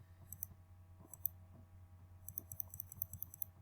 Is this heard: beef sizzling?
no